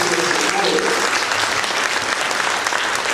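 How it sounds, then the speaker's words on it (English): Audience at a San Francisco mayoral debate applauding the candidates, steady close applause filling the whole stretch without a break. "please give them a round of applause for answering all the questions"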